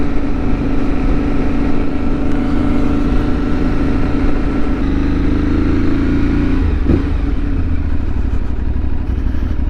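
An Aprilia Tuareg 660 motorcycle ridden offroad, its engine droning loud and steady close by with wind buffeting, one brief clatter partway through.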